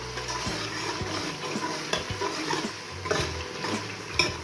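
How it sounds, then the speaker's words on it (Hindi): Chana masala roasting in ghee over medium heat, a continuous close sizzle with regular spoon scrapes and stirring knocks against the pot, no voices over it. "अब हम इनकी अच्छी तरह भुनाई करेंगे। आग को मीडियम रख लेंगे और अब इसकी अच्छी तरह भुनाई करेंगे।"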